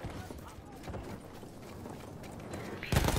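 A horse gallops in the video game Battlefield 1 multiplayer, a fast steady clatter of hoofbeats under excited talking, with a louder burst at the end.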